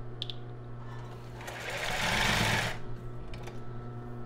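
A sewing machine stitches elastic onto a cropped top, running in one steady whirring burst of about a second and a half that swells and fades, set against a constant low hum in a quiet room.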